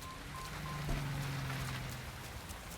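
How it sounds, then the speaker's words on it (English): Steady rain falls in the video game Watch Dogs Legion, a soft even hiss of drops on hard surfaces, moderately close and unbroken throughout, with a brief low tone briefly rising over it. "Apparently it is also raining randomly for us now."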